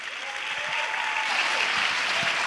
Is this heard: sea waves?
no